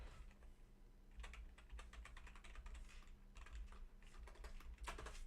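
Rapid typing on a computer keyboard, with steady clusters of quiet, close key clicks over a low background hum and no talking.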